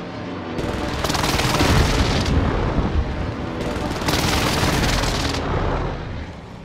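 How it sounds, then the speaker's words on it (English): Call of Duty airstrike explosions, heavy sustained booming with layered blasts and rumbling debris that swell and recede across several seconds, loud and close throughout. "Marked for airstrike. This is Phoenix 3. Strike inbound."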